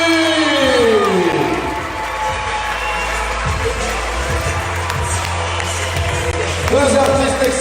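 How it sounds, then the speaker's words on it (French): A loud circus audience at Cirque Medrano in Lyon cheers and applauds continuously, with shouts and whoops rising near the end, plus some music or tones at the start. "ils méritent vraiment vos applaudissements, faites du bruit!"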